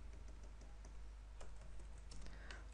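Quiet, scattered keystrokes tap on a computer keyboard, irregular clicks at a modest distance with no talking.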